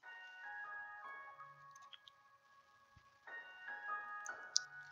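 Background music in Minecraft, release 1.7.10: soft, sustained melodic tones that swell and drift in overlapping phrases, with no voices over them.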